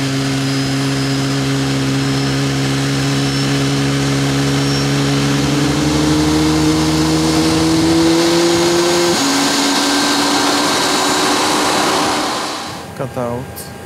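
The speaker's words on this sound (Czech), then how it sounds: "A dále už je motor poháněn horkými plyny ze spalovací komory, které roztáčejí turbínu a ta samotná pohání motor." A Boeing 737 MAX 8 jet engine runs during maintenance with a loud, steady roar and a whining tone that rises, then shifts and winds down near the end, with a voice briefly heard.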